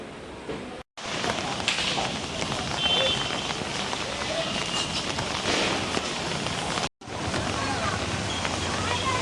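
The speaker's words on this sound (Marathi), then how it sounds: "पाऊस पडतोय बघा भर दिवाळीत" Steady rain falls outside, a dense even hiss that carries on throughout and drops out abruptly twice for a moment.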